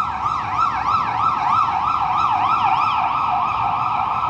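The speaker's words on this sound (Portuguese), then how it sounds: "112, ambulância." An ambulance siren wails loud and close in a steady rising-and-falling cycle, repeating about every half second over low road noise.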